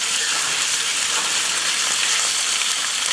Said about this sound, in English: And then we're going to sear our meat.